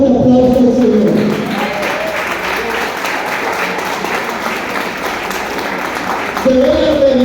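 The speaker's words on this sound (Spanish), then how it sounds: "Y es momento de darle un fuerte aplauso al Señor." A church congregation claps for the Lord in a sustained round of broad, fairly loud applause that fills the room, with a voice speaking briefly at the start and again at the end.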